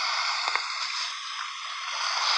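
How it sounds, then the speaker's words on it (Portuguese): A character drinking water in a video game gives a short gurgling, sloshing water sound over a steady hissy background, alone and moderately loud. "Vamos beber essa água."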